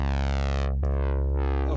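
A loud, buzzy Moog Minotaur analog synthesizer tone with rich harmonics, its brightness sweeping down, cutting off briefly, then swelling and falling again in a sweeping filter motion.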